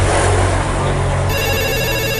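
A mobile phone rings with a repeating electronic ringtone, loud and close, continuing steadily throughout.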